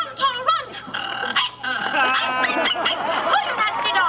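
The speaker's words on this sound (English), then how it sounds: "Oh, you nasty dog!" A dog yips, whimpers and lets out short barks in a rapid, uneven run, close and fairly loud, with whiny, pitched cries running through the whole stretch.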